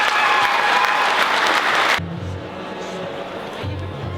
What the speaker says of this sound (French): Et oui, on peut les applaudir très fort.